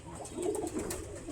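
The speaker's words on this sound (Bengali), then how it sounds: "আমি মিক্স কবুতর পালি, দেশি, গিরিবাজ, মুখী, তারপর সিরাজি, সব ধরনের কবুতরই আছে" Pigeons of mixed breeds, including deshi, giribaz, mukhi and sirazi, coo in a rooftop loft. The soft, low, rolling coos are faint and brief.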